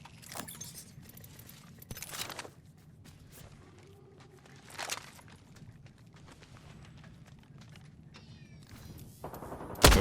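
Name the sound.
gunshots in the video game Apex Legends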